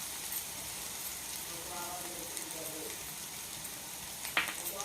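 Prawns fry in a pan with salt and chili powder, a soft, steady sizzle heard close with faint murmuring in the background and one brief sharp clink near the end.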